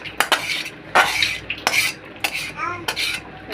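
Meat is stirred in a pot for biryani, with sharp clinks and scrapes of a metal spoon against the pot in uneven bursts over a faint sizzle, close and without speech.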